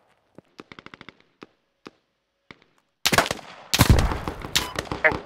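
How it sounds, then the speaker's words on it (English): Gunfire in the video game Squad: a few sharp isolated shots at first, then dense loud bursts of automatic fire crowding in close, with no talk over it. "Oh, taking fire."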